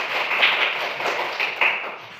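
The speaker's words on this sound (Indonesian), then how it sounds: "Tepuk tangan untuk anak Vano." A classroom of children gives a short burst of applause for a classmate, brisk overlapping claps at close range that swell and ease over about two seconds.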